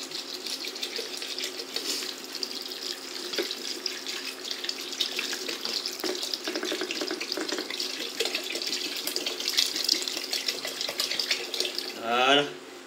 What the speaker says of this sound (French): maintenant, on va venir couvrir d'eau tout ça.